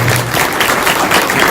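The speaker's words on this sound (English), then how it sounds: "Please join me at giving them a hand of applause." An audience claps for a panel at a housing forum, a dense, steady wash of applause from a roomful of people, loud and continuous through the short stretch.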